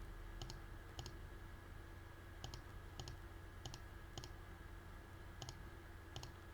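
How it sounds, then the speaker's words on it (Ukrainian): Faint computer mouse clicks, paired double clicks repeating at irregular intervals over a low steady electrical hum and hiss. "Клацаю далі."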